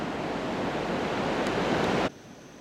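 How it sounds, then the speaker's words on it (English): Surf on an ocean shore near Daintree National Park, Australia, a steady broadband wash of breaking waves lasting about two seconds before cutting off abruptly to quiet. "We've got some good waves there."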